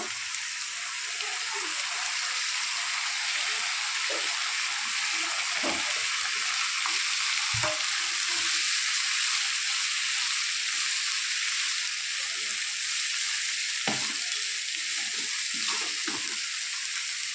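Continuous soft sizzle of carrots and beans frying in oil over a low flame, with occasional stirring clinks and scrapes of a spoon against the pan.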